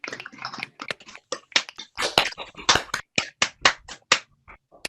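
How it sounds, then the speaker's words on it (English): A few people clap on an unmuted video call, giving a sparse, irregular run of sharp close hand claps that stand alone without talk. "So we're going to clap now."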